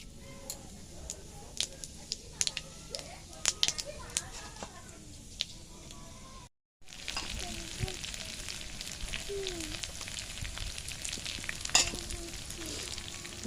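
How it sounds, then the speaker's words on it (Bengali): Oil heating in a wok for a Bengali pointed gourd (potol) curry sizzles and crackles steadily throughout, with a steady frying hiss and scattered sharp pops; a short gap breaks the sound midway, and a voice speaks over it. "পটলের তরকারি করার জন্য আমি কড়াইতে প্রথমে তেল দিয়ে দিয়েছি, এরপরে দিয়ে দেবো ফোড়ন"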